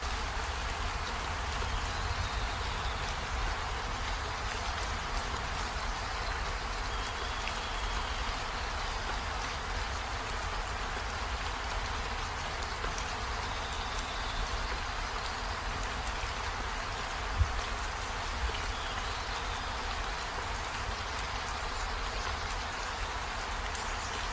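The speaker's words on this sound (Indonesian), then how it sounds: "sekarang juga lagi hujan" Steady rain at night in Sakura School Simulator, a constant even hiss of falling drops over a low hum, unchanging for the whole stretch, with one small click partway through and no talk.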